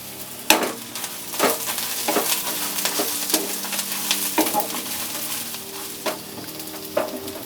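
Dry red chillies and cumin seeds fry in a pan with a constant close sizzle, broken by repeated sharp scraping clicks of a spoon stirring at irregular intervals.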